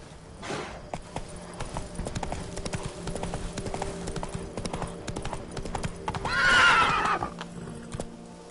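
Roach, Geralt's horse in The Witcher 3: Blood and Wine, gallops with a steady, close clip-clop of hooves, then lets out a loud, bright whinny near the end, with ambient game sound beneath.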